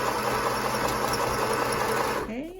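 A sewing machine runs steadily while back stitching a fabric face mask near its elastic edge, a continuous close motor whir that stops abruptly near the end.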